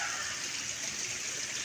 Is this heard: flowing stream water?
yes